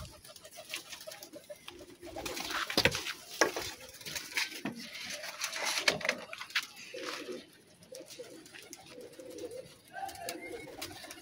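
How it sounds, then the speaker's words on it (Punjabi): A pigeon coos softly at close range in repeated low, throaty phrases over faint fluttering and shuffling, with brief indistinct talk in the background. "ਇਹ ਕਬੂਤਰ ਸਰ ਮੇਰਾ ਜੇਠੀ ਕਬੂਤਰ"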